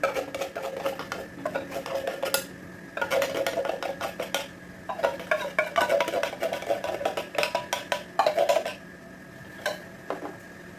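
A condensed milk and powdered milk mixture for leche flan being stirred in a bowl, heard as close, repeated bursts of a utensil scraping and clinking against the bowl in an uneven rhythm, with no talking.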